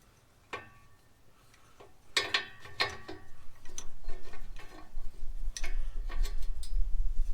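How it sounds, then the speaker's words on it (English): A wrench ratchets against a stuck fitting during a camper remodel, sharp metallic clicks in uneven bursts followed by a rising rumble of effort and scraping, close and fairly loud. "We're going to stick that wrench on there and see if we can't pop this loose."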